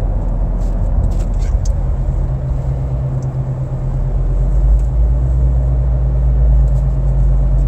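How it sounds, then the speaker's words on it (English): A tire pressure gauge rumbling around loose in a car's glove compartment, heard as a steady low rattle and rumble under road and engine noise inside the moving car, with faint clicks early on. "Tire pressure gauge rumbling around in the glove compartment."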